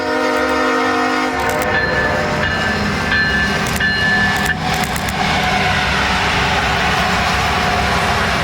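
A CSX Santa Train on the Clinchfield line pulls in and stops, its horn sounding in several short blasts over the loud, steady rumble and rolling clatter of the heavy train close by.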